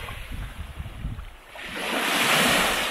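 Waves roll onto the Baltic shore of the Gulf of Gdańsk near the Vistula mouth, a soft wash building into a broad, loud surge, with wind rumbling against the microphone at first.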